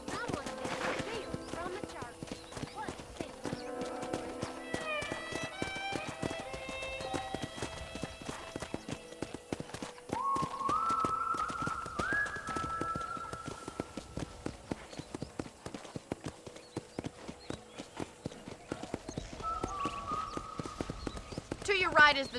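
A horse's hooves clip-clop in a steady riding rhythm through a Western-style video game, close and continuous, with occasional whinnies, under a voice talking and a light musical score.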